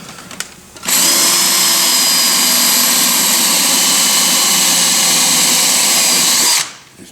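A power drill whirs at full speed, loud and steady for about six seconds, starting abruptly and winding down at the end, during construction of a 14-foot Ferris wheel.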